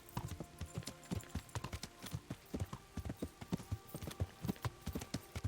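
Horse hooves clip-clopping steadily in the medieval video game Kingdom Come: Deliverance, a brisk, even rhythm of close, distinct hoofbeats with no talk over them.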